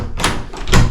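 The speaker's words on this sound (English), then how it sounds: "Another locked door." A locked indoor door in a house is tried and pushed shut, with a short rattle and then a close, firm thud.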